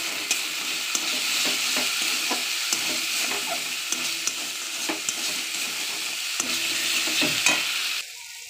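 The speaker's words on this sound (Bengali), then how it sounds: "আমার মশলা ভাজা হয়ে গেছে," Spices fry in a pan for a banana flower curry, with a steady loud sizzle and regular scrapes and taps of a stirring spoon, the sizzling dropping away at the very end.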